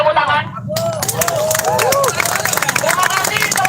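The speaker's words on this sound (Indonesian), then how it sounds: "Boleh tepuk tangan." Crowd of students at a street demonstration clapping and cheering together, a loud dense mix of claps and voices with babble throughout.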